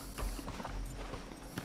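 Horse hooves clip-clop in the Red Dead Redemption video game, a few quick uneven hoof strikes over a dense, noisy game soundscape.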